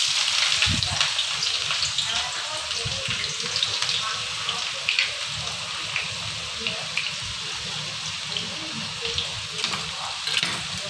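Garlic sizzling and crackling in hot cooking oil while making homemade chili paste, a steady broadband hiss with sharp pops throughout, close and fairly loud, with faint kitchen sounds underneath.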